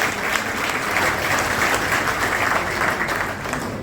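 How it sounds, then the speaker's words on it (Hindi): Loud, sustained applause from a large audience at a district bar association's golden jubilee celebration in Sonipat, steady and dense throughout with no voices standing out. "एक बार जोरदार तालियों से।"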